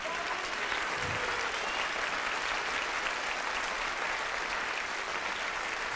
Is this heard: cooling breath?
no